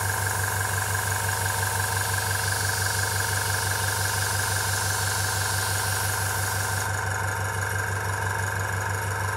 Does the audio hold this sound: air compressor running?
yes